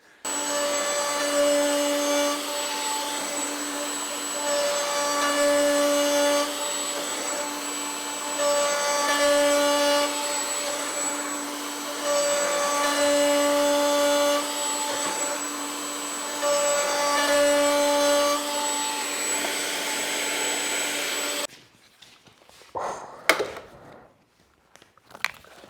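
A router riding on a sled flattens the underside of a live edge slab, giving a steady loud whine with a faint rhythmic rise and fall as it sweeps back and forth, then cutting off into a few scattered knocks and clatters.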